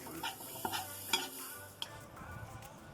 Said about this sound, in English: And you just stir them around, mix them together, and let it cook until it gets to the color you want.